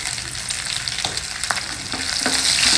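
Peeled shallots stir-fried in a pan for a South Indian lunch make a loud, continuous sizzle. Several distinct scraping strokes of a spatula run through it, and the sizzle swells slightly toward the end.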